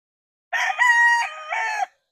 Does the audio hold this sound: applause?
no